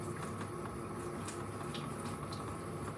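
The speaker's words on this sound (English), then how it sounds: "use the sprayer nozzle to water them in" Warm water from a sprayer nozzle soaks marigold seedlings, a steady close hiss of spray and water hitting soil that runs evenly throughout, with no talking.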